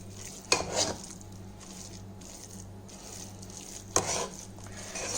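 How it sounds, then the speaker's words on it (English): Wheat dhalia dal kichidi stirred in a pot, two clear scrapes and clinks of a spoon against the metal over a faint steady background hum. "So I'm going to stir it again"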